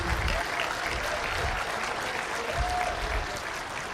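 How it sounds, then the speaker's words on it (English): Sustained applause from an audience at a political townhall in Red Deer, Alberta, a dense, steady wash of many hands clapping at fairly even loudness for the whole stretch, with faint voices mixed in underneath. "Let's give Jeff Rath another round of applause."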